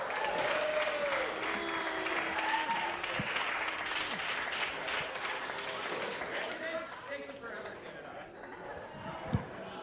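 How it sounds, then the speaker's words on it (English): Audience at a military appreciation comedy night applauds as a Navy comedian is introduced: sustained dense clapping with some chatter and an announcer's voice over it, fading slightly near the end. "please put your hands together for Brandy Morgan."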